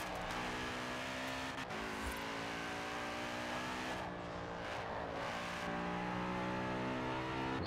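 In Forza Horizon 4, an Aston Martin's engine drones steadily at high revs with shifting pitch as the car drives, a continuous game engine roar with no talk.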